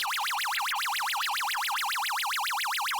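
A repeating warbling electronic tone cycles rapidly and steadily, a continuous laser-fire sound effect from a 1979 arcade game, fairly loud with no voices.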